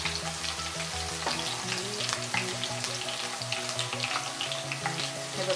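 Green chillies fry in a pan for sabudana khichdi, a steady close sizzle of hot oil with a few clinks and stirring sounds, no talk.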